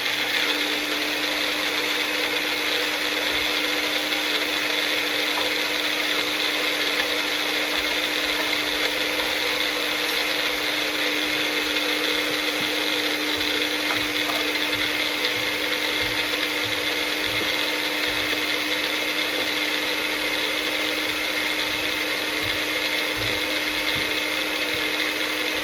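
Blender running continuously to emulsify a vinaigrette-style salad dressing with oil, a steady whirring motor drone with a slightly rough, grinding texture throughout.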